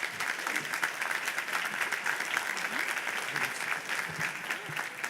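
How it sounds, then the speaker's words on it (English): A standing audience at a university commencement claps loudly and continuously, a dense, even roar of many hands filling a large hall from start to finish. "Please stand and clap for her."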